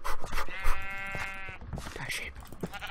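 Sheep in the video game Minecraft give a few short, wavering bleats up close, mixed with game sounds and a voice talking over them.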